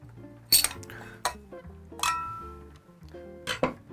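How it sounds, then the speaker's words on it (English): The housing of a D5 water pump is worked loose by hand, giving a few irregular clinking, scraping knocks of metal and plastic parts against one another, close and clear with quiet between them. "First step, we need to take the housing off this pump."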